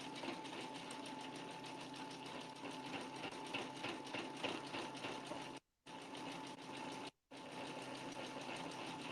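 A Brother embroidery sewing machine stitches a design onto a quilt, a steady fast mechanical whir and needle chatter running continuously at low level, broken by two brief pauses.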